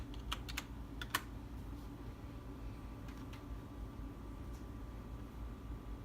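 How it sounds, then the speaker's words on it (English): Quiet keystrokes on a computer keyboard as a password is typed, a few sparse clicks in a short cluster early on and a couple more later over a steady low hum. "We'll type in our password to get in."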